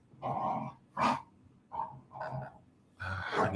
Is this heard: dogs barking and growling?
yes